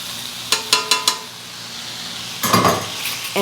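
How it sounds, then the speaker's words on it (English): Peas tipped into a pan of chicken primavera land as four quick clicking rattles, followed after a pause by a louder burst of sizzling and scraping in the pan. "Now we're going to add the peas"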